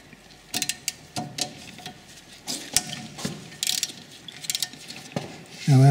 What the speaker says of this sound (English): we're going to remove the upper and lower bolts that connect the caliper through into the carrier